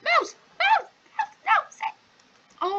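Dog barking in the PupCraft video game: a run of short, bright yipping barks in uneven bursts, fairly close and clear, with no talk over them.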